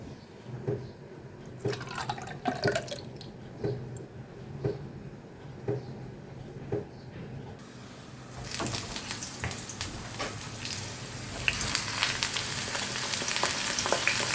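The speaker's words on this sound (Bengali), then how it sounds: "এই নারকোল ভাজা আর এই দুটো বেগুন" Coconut pieces and eggplant fry in oil in a home kitchen, a steady close sizzle with intermittent clinks and stirring, growing louder and denser toward the end.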